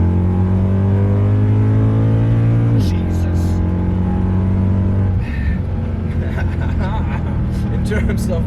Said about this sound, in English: you just gently roll on the throttle, the car picks up speed immediately